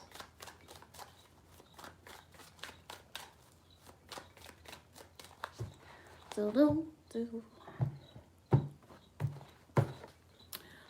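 A deck of tarot cards is shuffled in a quick run of crisp riffling snaps, then slower heavier card taps, close and fairly quiet, with a voice speaking over the latter part.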